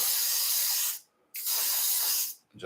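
Two long bursts of aerosol primer spray hiss loudly and close over a 1:72 scale MiG-29 model, separated by a short silent pause, with a third burst starting at the end.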